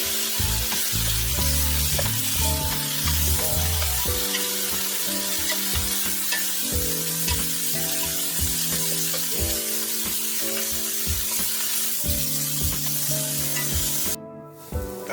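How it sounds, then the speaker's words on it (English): Oxtails browning in a hot pan give a constant loud sizzle and hiss, broken by repeated rhythmic clanks and scrapes of a utensil stirring and turning the meat, ending with a brief drop in sound. "So now we're gonna let these brown on each side for like about a good couple of minutes"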